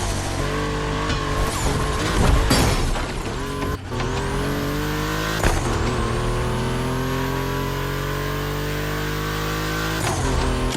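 Volkswagen race cars from a personal collection run on a track in The Crew Motorfest gymkhana event, engines droning loud and steady with rising revs, a sharp burst of tire squeal and a brief drop before the engines surge on.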